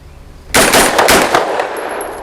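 A burst of gunfire from an Extar EP9 Gen 2 pistol at a shooting range: a sharp, loud onset followed by several quick shots in succession with ringing decay, close to the microphone.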